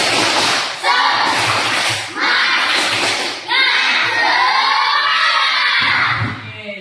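A group of children claps in rhythmic bursts and shouts together, loud and lively, with brief pauses between rounds of clapping.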